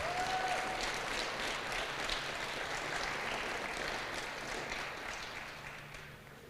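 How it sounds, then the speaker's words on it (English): An audience applauds at a grand opening celebration, a dense, sustained wash of clapping that fades gradually toward the end, with no voices over it. "give a round of applause for the Special Olympics"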